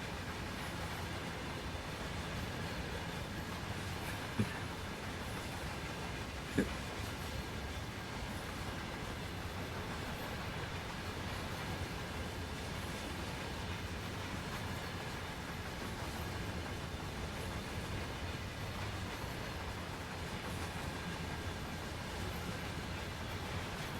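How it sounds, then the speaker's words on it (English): A long mixed freight train of boxcars and coal cars rolls past in a steady, continuous rumble with a faint wheel clatter, plus a couple of sharp clanks, and no talking. "There aren't too many like this which have got boxcars and coal in the same train."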